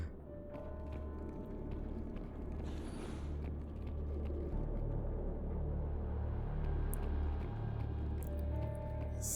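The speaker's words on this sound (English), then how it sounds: "I don't think they actually made the elevator move. I think they just played the sound and closed the doors." Mass Effect 3 elevator rumbling steadily with a low mechanical drone, a brief hiss partway through as the doors slide shut, continuous and fairly loud with no talking.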